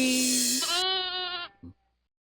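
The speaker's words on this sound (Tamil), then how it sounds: "ஏதோ ஆட்டுக்குட்டி சவுண்ட் வருது" A lamb bleats in one drawn-out, wavering cry, loud and close, ending with a short final note.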